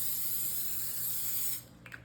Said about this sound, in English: we're gonna do one more spray of our avocado oil so that both sides get crispy